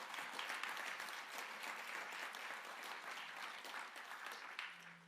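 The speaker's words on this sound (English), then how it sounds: "please give yourselves a round of applause" Steady applause from a large audience at a youth homelessness summit, dense and continuous for several seconds before thinning slightly at the end.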